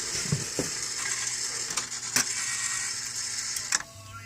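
A turntable tone arm assembly is loosened and nudged into adjustment, making small ratcheting clicks, taps and metallic ticks at irregular intervals. The sounds are close but fairly quiet over a faint background hum.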